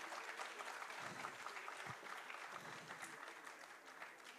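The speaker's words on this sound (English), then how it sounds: "pamper them with a very loud applause, dear parents" Parents in the audience at a school's annual showcase give sustained applause, a continuous, even wash of many hands clapping, heard at a distance and fairly quiet.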